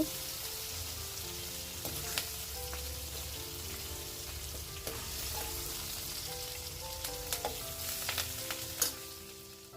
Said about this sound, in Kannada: ಕ್ಯಾಪ್ಸಿಕಮ್ಮು ಮತ್ತು ಈರುಳ್ಳಿ ಈ ಥರ ಫ್ರೈ ಮಾಡಿದ್ರೆ ನಿಜವಾಗ್ಲೂ ಚೆನ್ನಾಗಿರುತ್ತೆ